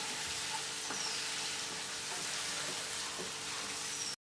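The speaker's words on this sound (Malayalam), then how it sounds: "പൊടികളെല്ലാം ചേർത്തതിന് ശേഷം സ്റ്റവ് ഒരു മീഡിയം ഫ്ലെയിമിൽ വെച്ച് 2-3 മിനിറ്റ് നന്നായിട്ട് വഴറ്റി കൊടുക്കണം." Spice powders with Kashmiri chilli sauté on a medium flame, giving a dense, continuous sizzle with light intermittent stirring taps that runs steadily close by, then cuts off abruptly.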